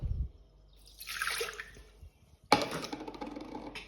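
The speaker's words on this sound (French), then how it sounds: "on va rajouter 200 g d'eau" Water poured into a mixing bowl while baking, a soft close trickle and splash followed by a sharper burst of splashing, with quiet drips between.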